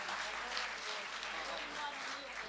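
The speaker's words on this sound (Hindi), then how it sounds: "एक बार जोरदार तालियां इनके लिए" Applause from the audience at a Hindi poetry gathering, a continuous, fairly faint patter of many hands throughout the short stretch, slightly distant, with no voices over it.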